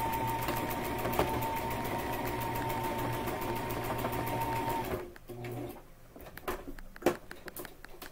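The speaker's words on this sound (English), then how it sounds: "You're going to hear the sewing machine," Sewing machine stitching fabric, a fast steady run of mechanical clatter with a motor hum for about five seconds, then slower, sparser stitching taps and handling noises, close and alone.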